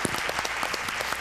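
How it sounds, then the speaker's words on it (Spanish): Studio audience on a television programme applauding steadily in a dense, continuous wash of clapping throughout the brief moment. "Un aplauso para don Víctor!"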